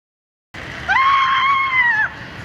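Ken, played by an actor, lets out one loud, sustained high-pitched man's scream lasting about a second in a scene from the Barbie movie, heard alone after a brief silence.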